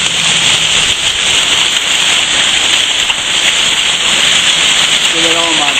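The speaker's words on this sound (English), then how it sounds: "See the size of that hail there?" Hail falling on a patio and roof during a storm, a dense continuous hissing patter, loud and close, with a voice speaking briefly over it.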